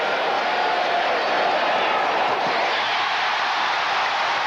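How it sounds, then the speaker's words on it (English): A packed basketball arena crowd at a 1988 Celtics-Pistons playoff game in Detroit, a steady, loud, roaring wash of voices that holds without pause throughout. "listen to the crowd"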